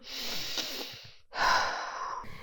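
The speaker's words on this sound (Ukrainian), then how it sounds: "давайте зробимо разом вдих і видих." A person takes a slow, deep breath in and then lets it out in a long exhale, the two breaths close and soft with a short pause between them.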